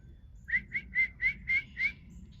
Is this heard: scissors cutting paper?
no